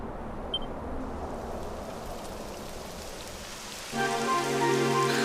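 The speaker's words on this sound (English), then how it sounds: "It would have to go and start raining, wouldn't it?" Rain falls steadily in the video game Dragon Quest XI as a soft, dense patter that grows louder near the end, when a tonal game sound enters beneath it.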